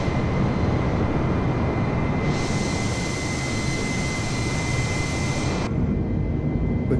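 An Airbus A320 in a flight simulator game gives a continuous, loud jet-engine roar with a steady hiss. The tone brightens partway through, then drops back to a duller drone near the end.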